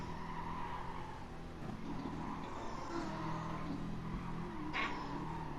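A Jaguar race car engine in a racing video game holds a steady, droning hum with a faint rising whine, heard alone without talk.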